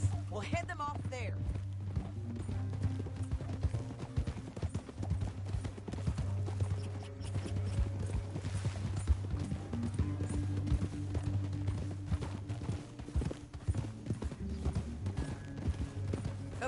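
Steady rhythmic clip-clopping of hooves throughout, moderately distant, like horses on the move in the video game Red Dead Redemption 2, under a low continuous rumble.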